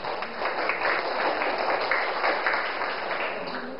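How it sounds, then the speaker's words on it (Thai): A class of Thai primary school students gives their classmates a round of steady applause, with dense scattered clapping continuing evenly throughout. "ใครได้5บ้างคะใครได้5บ้างวันนี้ปรบมือให้เพื่อนหน่อยค่ะ"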